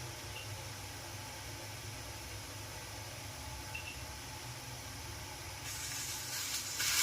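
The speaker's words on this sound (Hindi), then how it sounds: "दूध अभी उबल रहा है" Milk heating toward a boil in a pot on a gas stove at home, heard as a steady, even hiss with a low rumble underneath that swells louder in the last second or two.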